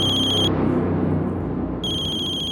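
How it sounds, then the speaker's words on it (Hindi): A landline telephone rings in two electronic bursts, one at the start and one near the end, separated by a pause, with a low room rumble running underneath. "सनी के राजकोट वाले घर की लैंडलाइन से फोन है।"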